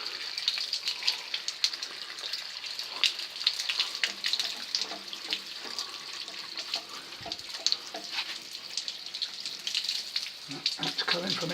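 Water gushing from a burst household pipe, a steady, close hiss of spraying flow that runs throughout, with a few knocks and clatters near the end.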